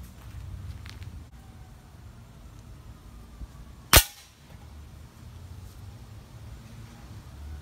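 Daisy Powerline air gun fired at a steel can: a single sharp crack stands out against a quiet outdoor background, with a faint rustle before it and no talk.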